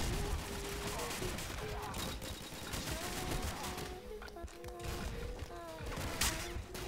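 Gunfire and a grenade blast from the 2D shooter Soldat sound as a fairly faint, dense stream of rapid shots and small bangs under game effects, with a sharp burst near the end.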